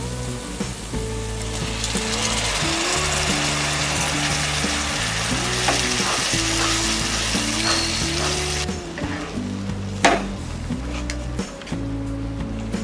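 Tomato puree sizzling and frying steadily in a hot pan, a loud continuous hiss close by with occasional stirring clicks, no talking.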